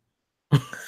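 A single short cough, close and abrupt, after a moment of silence, followed by a faint trailing breath.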